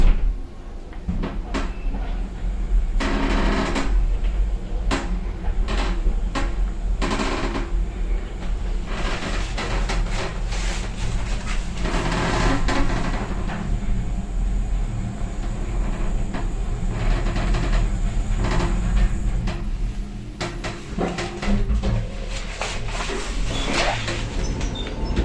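Glass lift in a hotel in Sunny Beach, Bulgaria, running inside its glass shaft with doors sliding open and shut, a steady mechanical hum under repeated clunks and door thuds, close by and fairly loud throughout.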